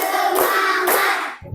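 Elementary fifth-grade pupils in a classroom clap in unison on a teacher's cue, two or three sharp group claps in quick succession before a voice cuts in at the end.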